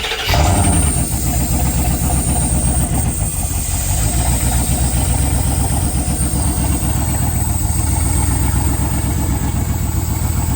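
A truck engine, primed with brake cleaner, catches almost at once and then runs loud and close with a rough, steady, throbbing drone throughout.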